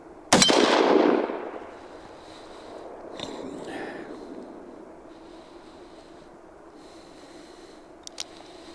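A 7.5-inch Ruger Redhawk .44 Magnum revolver, fired single action and left-handed, lets off one loud, close shot with a long rolling decay. Near the end comes a faint quick ping.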